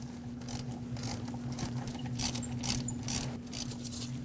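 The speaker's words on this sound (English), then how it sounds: "Get your tool on, break it free, and remove it." A hand tool ratchets rapidly on the AC compressor bracket bolt of a Lexus IS250 2.5L V6, a quick series of clicking strokes over a low steady hum.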